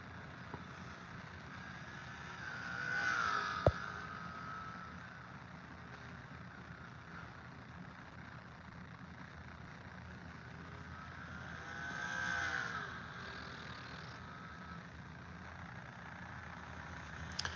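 GT race cars lap Sebring in a racing video game, their engines rising and falling faintly as two cars swell past several seconds apart over a low, steady background drone.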